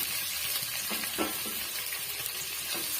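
Chopped capsicum fries in oil in a pan, a soft steady sizzle with a few stirring scrapes, moderately close and without talk.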